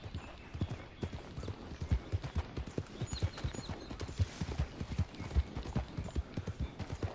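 Horse hooves clip-clop at a steady trotting rhythm in Red Dead Redemption 2, with even, close hoofbeats and a faint bed of ambient sound underneath.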